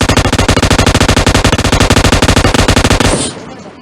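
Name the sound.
gunfire in PUBG Mobile video game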